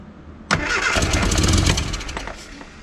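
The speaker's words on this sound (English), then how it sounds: "Keaton turning a key isn't all that impressive" A Mini's engine is started with a key, its starter cranking briefly before the motor catches and settles into a loud, rough, rich-running idle close by, with no voices over it.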